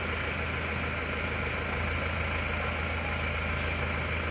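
Isuzu Panther diesel engine running steadily close up, a loud continuous rumble with a low throbbing hum that holds level, with no talking.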